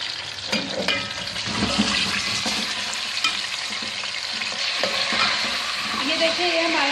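Chicken pieces fry to golden in the same oil used earlier for onions for a Pakistani chicken korma, making a loud, continuous close sizzle with occasional stirring scrapes and spatters.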